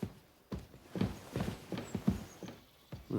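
Hooves clip-clop steadily as a horse walks in the medieval video game Kingdom Come: Deliverance 2, a soft even rhythm of hoofbeats at moderate distance with no talking.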